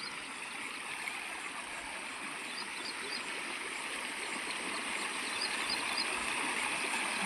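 Steady rushing of a rain-swollen stream flowing over rocks, a continuous broadband wash of water that holds constant throughout, with no voices.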